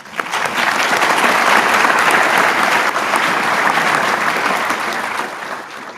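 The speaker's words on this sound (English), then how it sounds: "So we should give ourselves a round of applause for that" A winter graduation ceremony audience breaks into a big round of applause that swells quickly, holds dense and loud for several seconds, then begins to taper off.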